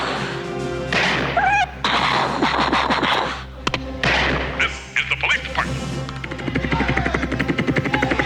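A beatboxer's vocal imitation of a helicopter in a movie scene, with rapid rhythmic chopping pulses that steady into a repeating beat toward the end, mixed with other mouth noises.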